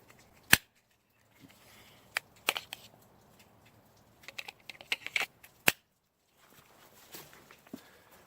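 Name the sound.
click of Hogue F02 paddle pushed in and popped out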